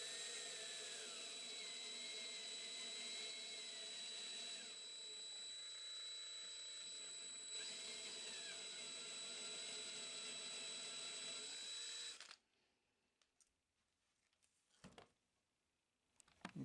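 A power drill bores steadily through a wood veneer for a guitar, a loud continuous whine that runs for several seconds and then cuts off, followed by a few faint clicks and knocks.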